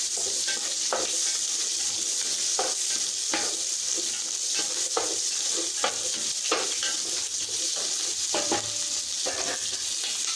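Onions and mixed vegetables fry steadily in a pan for South Indian sambhar rice, a constant loud sizzle with repeated scraping stirs breaking through at irregular intervals and no voices.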